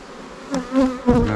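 Honey bees buzz in flight around an open hive during a honey super harvest, a close, wavering drone that swells and dips as individual bees pass near.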